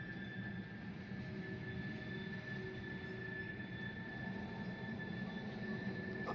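A train with a caboose rolls past in a steady, continuous rumble with a faint high whine, no voices.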